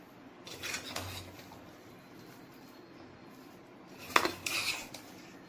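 Chicken biryani stirred in a pot with a utensil, giving a few soft scraping clinks of metal against the pot, with a sharper clatter near the end, quiet and close with no talk.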